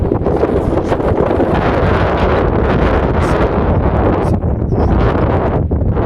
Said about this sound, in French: Là, il y a énormément de vent.